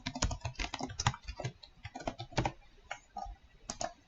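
Fingers typing on a computer keyboard, a quick irregular run of soft key clicks in short bursts with brief pauses, close and quiet with no talking.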